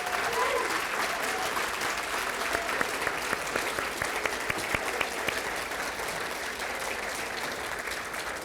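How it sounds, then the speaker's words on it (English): Parents and guardians at a school awards ceremony applaud in a broad, continuous wave of clapping that carries on for several seconds at moderate volume, with faint voices mixed in. "Please give them a round of applause."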